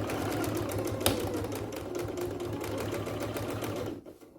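A sewing machine stitches a waistband on trousers, a steady fast mechanical whir with rapid needle ticking that runs close and continuous, then stops abruptly at the end.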